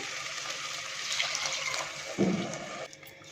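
Water pours steadily in a continuous rushing stream, then briefly splashes louder into a pot of rice before stopping near the end.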